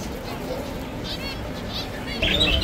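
Royal pigeons at Souq Mureidi bird market in Baghdad, with faint, scattered chirps and calls buried in steady market noise and a voice nearby.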